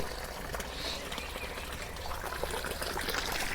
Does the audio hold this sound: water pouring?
yes